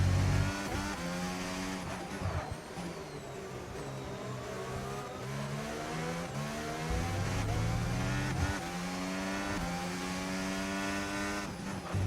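Formula 1 car racing through a wet race in the F1 25 video game, its engine howling and repeatedly climbing through gear shifts, with brief dips and tire noise, loud and continuous from start to finish.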